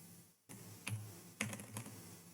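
A computer keyboard is typed on while code is written, with a few quiet clustered keystrokes and taps over a faint background hum.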